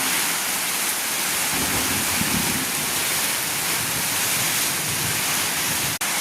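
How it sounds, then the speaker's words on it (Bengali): Steady, heavy rain roars alone as a dense, even wash of noise, with a brief dropout near the end. "বাইরে কি পরিমাণে বৃষ্টি শুরু হয়েছে দেখো"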